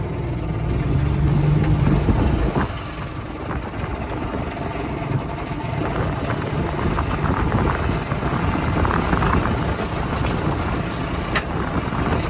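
Engine of a 1975 mail jeep with a motor problem and low oil pressure runs steadily, a continuous close mid-pitched rumble with slight roughness, no voices over it.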